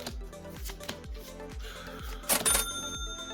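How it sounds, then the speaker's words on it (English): Foil trading card pack ripped open in one quick tearing burst, loud and close, set against steady rhythmic background music. "I'll just rip this open."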